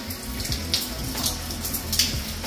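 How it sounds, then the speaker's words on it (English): A shower runs at full flow in a home being inspected in Buckeye, Arizona, while the tub is also filling. The water makes a steady, close hiss and splatter. "turn the shower on and look at that"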